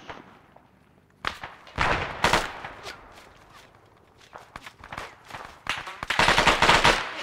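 Gunfire in the military shooter game ArmA: scattered bursts of rifle and machine gun shots with sharp cracks, some near and loud, others more distant, with quieter gaps between volleys.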